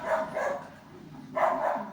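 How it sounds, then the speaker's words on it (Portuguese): Dogs bark in a few short bursts, two near-together yaps then another at the end, moderately close outdoors, after a car has just passed, with a faint low murmur of background noise underneath. "Passou o carro, a cachorrada latiu"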